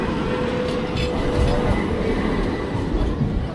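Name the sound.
long tram passing on a street in Istanbul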